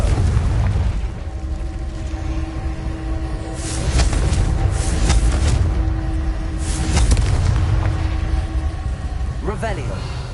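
Confringo blast spells in Hogwarts Legacy go off as repeated heavy booms with a fiery crackle, swelling and fading in a loud, continuous rumble.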